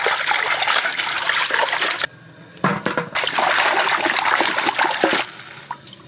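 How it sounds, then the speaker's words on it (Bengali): Long beans being rinsed under running water, a steady trickle and splashing that breaks off briefly twice before resuming close by. "বরবটি ধুয়ে নেবো।"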